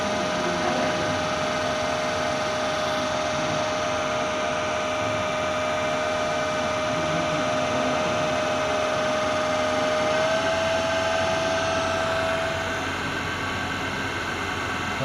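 A DC electric machine on a Hopkinson's test bench runs steadily after being started with a four-point starter, giving a continuous mechanical hum with a steady tonal whine and broadband noise throughout, with no talk.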